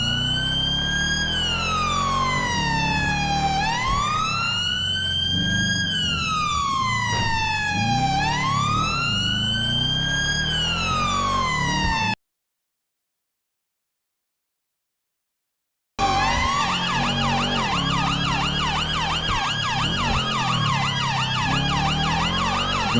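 Police car sirens in GTA 5 wail loudly with rising and falling sweeps, cut off for a few seconds of silence before returning as faster overlapping yelps.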